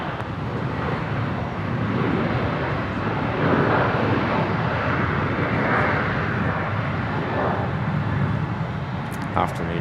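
A fixed-wing airliner lands on runway 01 left at Brisbane Airport, a broad, sustained engine roar that swells and stays loud throughout, joined briefly by a radio voice.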